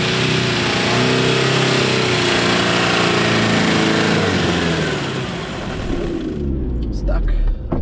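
A 4x4 engine labours in low range with the diff lock engaged while climbing a rocky trail obstacle, a loud sustained drone that eases near the end as people talk over it.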